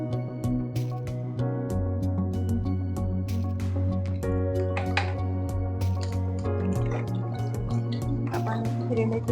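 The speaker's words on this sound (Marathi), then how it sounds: "आपण हिरवी मिरची छान परतून घेतोय।" Green chillies fry with cumin seeds in hot oil in a pan for potato usal, with irregular sharp crackles and pops scattered over a steady tonal background.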